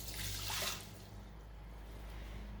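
A cup of water poured into rinsed rice inside a multi-cooker, a soft splashing rush that swells at the start and then settles into a quiet trickle.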